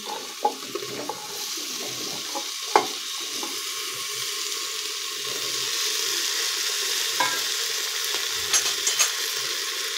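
Carrot, tomatoes and potatoes stirred together in a pan for sambar, a soft continuous sizzle with intermittent scraping and clinking of the spoon against the pan.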